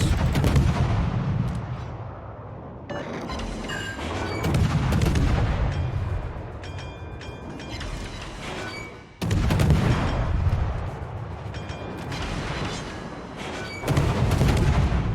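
Heavy naval gunfire from a Kiev destroyer battle in World of Warships, deep booming salvos rolling out in long bursts with crackling impacts and short pauses between volleys, loud and close.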